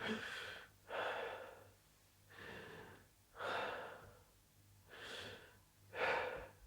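A person breathes slowly and deeply, with six distinct breaths, inhales and exhales alternating in a steady rhythm, close and fairly quiet with no talking.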